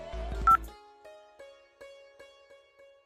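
A telephone dials out with a quick burst of keypad tones, followed by a string of short, evenly spaced electronic beeps that fade gently, faint and clear with no talking.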